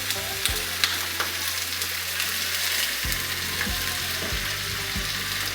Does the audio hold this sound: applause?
no